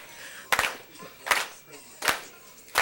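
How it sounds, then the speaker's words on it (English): Audience applause at a school board meeting, heard as bursts of clapping at a steady rhythm of about one every three quarters of a second, with a lower patter of hands in between. "Keep clapping while we're moving."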